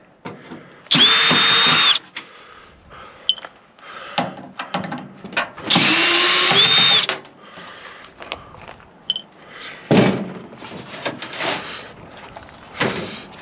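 A power drill spins in two sustained bursts of about a second each, backing security screws out of a scrapped microwave, with scattered clanks and handling noises of metal parts in between.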